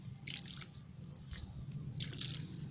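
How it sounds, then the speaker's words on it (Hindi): Water poured from a small container onto soil around a newly potted black pepper plant, giving soft wet drips and squelches in a few short bursts over a low background hum. "फिर थोड़ा सा पानी दे देती हूँ"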